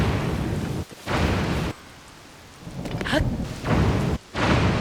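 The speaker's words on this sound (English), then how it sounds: "I was blessed by a rainstorm in each game so I could admire their beauty." Thunderstorm with steady rain from a Nintendo Switch 2 video game, heavy rain hiss broken by brief gaps, with a rolling rumble of thunder building in the middle, loud and close.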